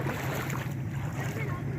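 A boat moving across a flooded river, its steady low engine drone and water wash continuous and fairly close, with wind noise over the microphone.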